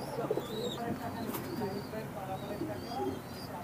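Fancy pigeons coo softly in the background, low repeated murmuring calls partly under a person talking nearby.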